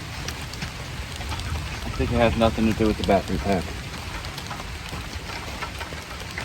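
Steady rain falls outdoors as a broad wash of patter, while people talk nearby in the middle of the stretch.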